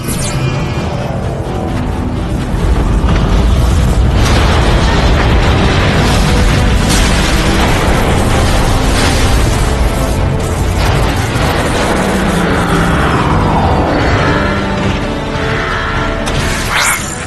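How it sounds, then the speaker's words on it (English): Massive neutron gun powering up in Transformers: Fall of Cybertron, a dense, continuous roar of booming blasts, crashing debris and grinding machinery, loud and unbroken throughout with rising swept whines near the end. "The neutron gun is activating."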